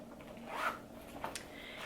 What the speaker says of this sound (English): I'll stick it in the little zipper compartment at the front